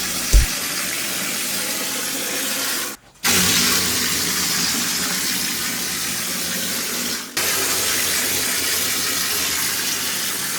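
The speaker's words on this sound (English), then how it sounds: "Our cement sprayer shines when it comes to filling in deep pocket holes because it sprays the cement deep into the" Cement sprayer blasting cement mix deep into pocket holes on cellar walls, a loud steady hissing rush that runs continuously, cutting out briefly twice before resuming.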